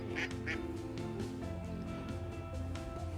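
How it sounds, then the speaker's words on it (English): Ducks quack a few times at a carp fishing lake, faint calls over a steady low hum and background noise. "Bloody ducks."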